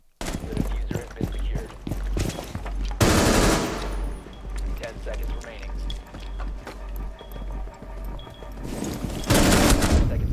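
Rapid automatic gunfire bursts from a Rainbow Six Siege match, loud and close, with dense volleys at the start and end and scattered shots between, under a player's voice.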